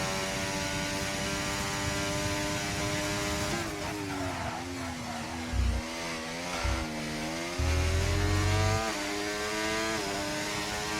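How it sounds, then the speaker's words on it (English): Racing car engine in a video game race at Monza, a Williams on soft tyres, droning steadily with a high harmonic whine that dips and climbs through gear changes, with brief low thumps near the end. "That engine's definitely a bit louder."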